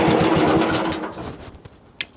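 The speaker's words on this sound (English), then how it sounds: "I'll fire up the engine and do a little test run before I actually start cutting" Small engine on a portable sawmill fires up for a test run, giving a loud buzzing rattle that fades out over about a second, followed by a few faint knocks and a brief sharp clank.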